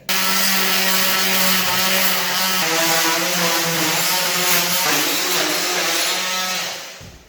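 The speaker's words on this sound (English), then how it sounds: "we're just going to go down the back of our architrave where it meets the plasterwork with a multi-tool just to be safe" An oscillating multi-tool cuts down the back of a wooden door architrave where it meets the plaster, giving a loud, close, continuous buzzing whine that shifts pitch slightly as it works before stopping.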